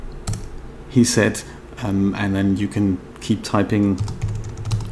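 Keys on a computer keyboard click in quick bursts while a person typing into the Storyist writing software talks steadily over them.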